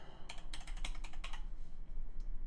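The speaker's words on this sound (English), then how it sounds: "I don't know where I was typing that 211 at" Typing on a computer keyboard, a quick burst of about eight close key clicks in the first half followed by a couple of fainter taps, over a low steady hum, with no talk.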